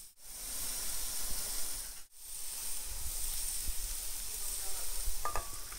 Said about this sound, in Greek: Αυτός ακριβώς είναι ο ήχος που θέλουμε να ακούσουμε όταν βάζουμε την πριζόλα στο μαντέλι.